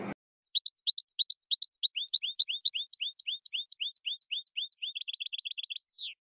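Goldfinches chirp and sing in rapid, clear repeated notes, quick bright trills following one another in a steady stream with a brief higher call at the end, close and alone.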